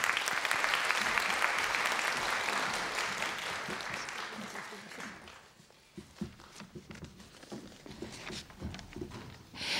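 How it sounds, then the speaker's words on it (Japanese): Audience applause welcomes a speaker at a memorial concert in a church, with full steady clapping for about five seconds that thins into scattered claps and fades away. "拍手でお迎えください。"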